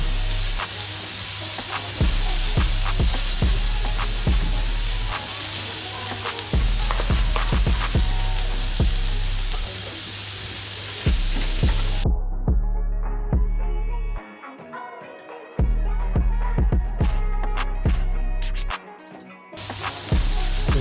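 Prawns sizzle hard on a griddle pan with butter, a loud continuous crackle broken by sharp pops and spits, close and steady, with a brief drop-out partway through and no voices.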